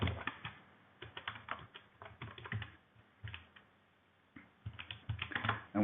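Someone types on a computer keyboard in quick, irregular bursts of close, soft key clicks separated by short pauses, with no talking.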